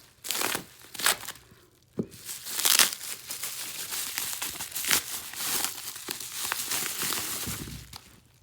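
A knife slitting open a shipping package holding a cheap eBay iPhone 6, with loud close crinkling and tearing of plastic and cardboard in continuous bursts, no voices.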